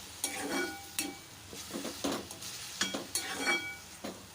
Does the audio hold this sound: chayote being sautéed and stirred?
yes